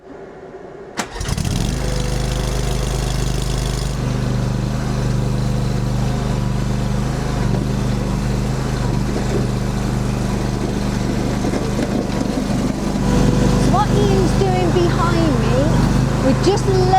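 A mini pellet tractor starts with a sharp jolt, then its engine runs at a steady, loud idle-to-working drone while levelling and grading stones, rising slightly in pitch near the end with a voice talking over it.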